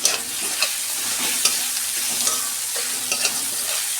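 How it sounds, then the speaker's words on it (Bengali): Garlic, ginger and green chillies frying in oil for a dried fish curry, a steady close sizzle with light stirring clicks and scrapes running throughout. "আদা রসুনটা আমি ভালো করে ভেজে নিয়েছি।"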